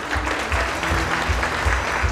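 An audience at a company summit claps steadily, a dense, even burst of applause from a seated crowd in a hall, loud and close throughout.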